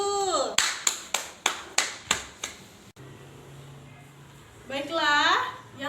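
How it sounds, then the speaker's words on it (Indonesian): A classroom of students applauds in a series of about seven sharp, evenly spaced bursts of clapping, followed by a quiet stretch and then a short, voice-like rising and falling sound near the end. "Beri aplaus dulu."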